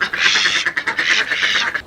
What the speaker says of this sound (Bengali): এই না বলে পাতি হাঁস